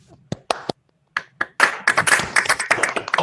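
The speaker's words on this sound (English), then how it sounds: "Final round of applause to our guest speaker." A small online audience claps for a guest speaker after an astronomy talk, a few scattered claps at first building into a denser round of applause, with voices mixed in.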